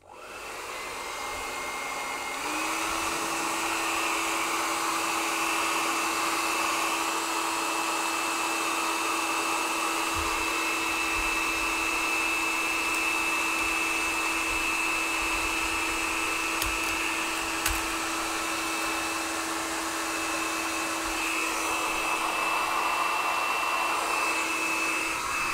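A hair dryer runs continuously up close, drying watercolor paint on a polaroid-style card, a steady loud whir that starts up after a brief moment and holds its pitch for the whole stretch.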